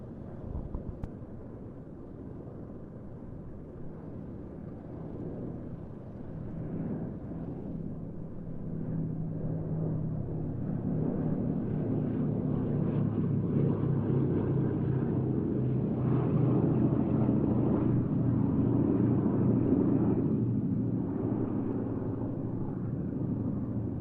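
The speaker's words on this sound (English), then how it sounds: "An aircraft like this one, G-model B-17s, began to arrive with the 8th Air Force in September 1943" A G-model B-17 bomber flies at an airshow, heard as a deep, continuous piston-engine rumble and drone that grows louder and fuller as it draws nearer, with no talk over it.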